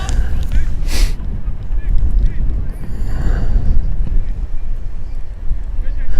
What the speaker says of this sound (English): You may be able to tell it's windy out